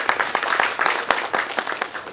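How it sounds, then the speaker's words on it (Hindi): A theatre audience in Lucknow, gathered for a Nari Shakti Samman award event, applauds with distinct, rhythmic claps that rise and fall at moderate volume. "जोरदार तालियां उन सभी महान"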